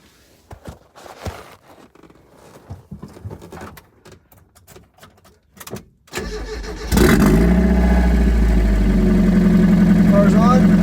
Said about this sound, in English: Car's on.